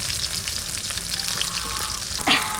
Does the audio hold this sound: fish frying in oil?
yes